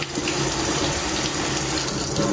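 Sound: water running from a tap to water plants

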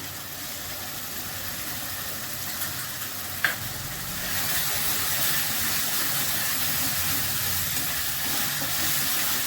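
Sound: masala with yogurt sautéing in a pan

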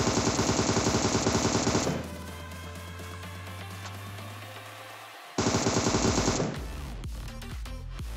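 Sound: gunfire shooting an enemy in PUBG video game

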